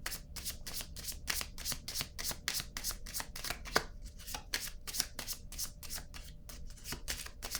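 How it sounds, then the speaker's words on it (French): A deck of cards is shuffled over and over in quick, crisp riffling bursts, then a card is drawn, all close and quiet with a steady, fast rhythm. "je vais piger une autre carte ici"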